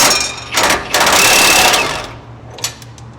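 Impact wrench on a sway bar bushing bolt of a Ford Raptor, firing in short rattling bursts with pauses between, close and loud over a low background hum.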